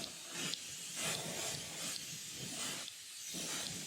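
An airbrush mists fluorescent green paint onto a Rapala Wiggle Wart fishing lure, giving a close, soft, steady hiss that swells in several pulses as the spray is triggered, with no talking.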